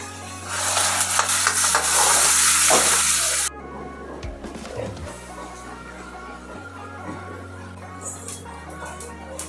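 Tomato, curry leaves and fish curry paste hit hot oil for a pomfret curry, setting off a loud, bright sizzle that drops sharply after a few seconds to a softer crackle with light stirring clinks.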